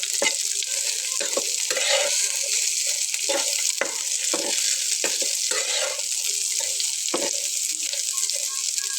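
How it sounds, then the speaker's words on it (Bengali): Yardlong beans fry in a pan over a low flame and are stirred without water, giving a continuous close sizzle broken by repeated scraping strokes of a spatula across the pan. "চুলার আঁচটাকে লো ফ্লেমে রেখে উল্টে পাল্টে ভেজে নিতে হবে"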